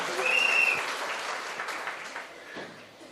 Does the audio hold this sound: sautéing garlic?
no